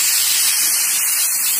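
A kitchen pressure cooker cooking tomato rice blows a loud, steady hiss of escaping steam through its whistle for a short burst, close and alone.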